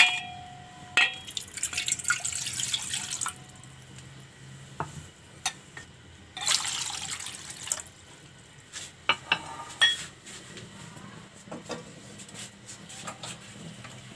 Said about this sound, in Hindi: सबसे पहले हम पानी डालेंगे पतीली के अंदर